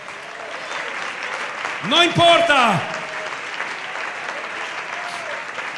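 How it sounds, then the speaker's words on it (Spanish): A church congregation claps in a steady wash of applause while a preacher's voice sings out briefly over it in the middle. "Dale ese aplauso a Él"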